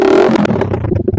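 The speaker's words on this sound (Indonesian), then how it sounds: "knalpot ini memang agak ngeblar ya." A motorcycle with an Indonesian custom-style exhaust revs up close, a brief throaty blat that rises and then breaks into uneven popping bursts as the throttle drops.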